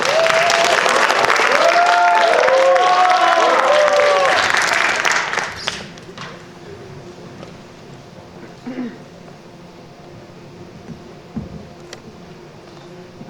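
Loud crowd applause for a student presenter at a Korean academic research presentation event, dense clapping with some overlapping voices for about five seconds before dropping abruptly to a quiet room with faint rustles.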